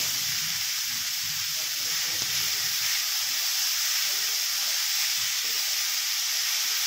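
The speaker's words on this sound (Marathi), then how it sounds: "आणि काय करायचं आहे, आपल्याला व्यवस्थित परतून घ्यायचं आहे।" Shredded cabbage filling for paneer momos sizzles steadily in a hot pan, an unbroken close frying hiss with faint stirring scrapes and no speech.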